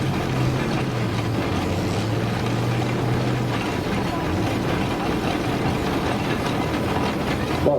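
A big imported American Massey tractor drives past at a steam ploughing country fair, its steady low engine drone continuous and fairly loud throughout, with outdoor crowd background.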